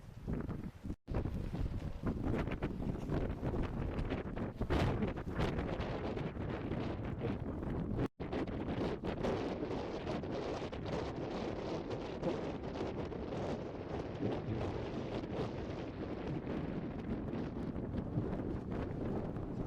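Cold wind on the coast at Ouistreham, Sword Beach, buffets the microphone in a constant rough rumble, with a couple of brief dropouts, no voices present.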